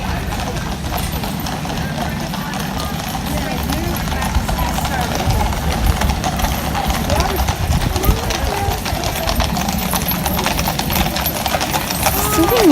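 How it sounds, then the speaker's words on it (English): Horses' hooves clip-clop steadily at the Buckingham Palace changing of the guard, a continuous rhythmic clatter that grows slightly louder as people talk nearby. "Now the horse ones are coming."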